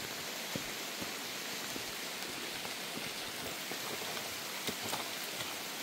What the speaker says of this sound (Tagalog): at nag-uulan